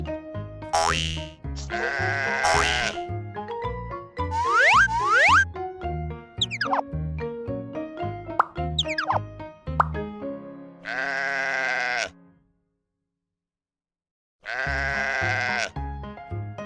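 Cartoon sheep bleating in a baby sensory farm-animal animation, with bright playful music, boing and plop effects around it, repeated wavering bleats near the middle, then a short silence.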